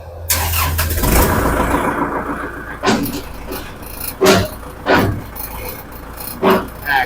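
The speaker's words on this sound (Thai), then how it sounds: "เดี๋ยวผมลอง สตาร์ทเครื่องให้" A used tractor engine cranks and fires at a secondhand tractor lot in Lampang, Thailand, starting with a short whirring crank and then settling into a running idle broken by several sharp, loud bursts.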